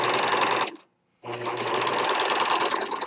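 A serger stitches lightweight knit fabric with a narrow seam allowance, giving a loud, close, fast mechanical whir that stops briefly for about half a second and then resumes steadily, with no talking.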